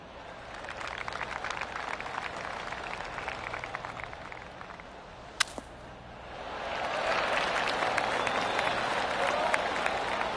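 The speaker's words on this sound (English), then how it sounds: "I can hear the golf claps around" Polite golf claps from spectators around a green during a women's golf round, starting as a scattered patter and swelling into steadier, louder applause partway through, with a sharp click near the middle.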